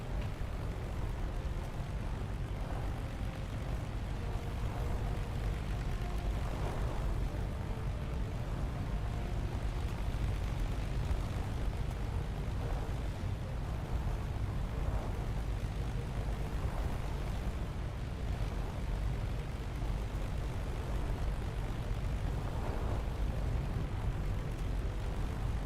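Steady, dense drone of bomber aircraft engines in War Thunder, a continuous low rumble with faint intermittent swells throughout.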